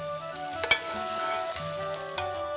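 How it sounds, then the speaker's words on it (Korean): Soaked, chopped dried radish greens stir-fried in oil for a dumpling filling, giving a steady sizzle with a few sharp clinks of a utensil against the pan, close and alone without speech. "우선 불린 시래기를 잘 다진 다음 기름에 볶아줍니다."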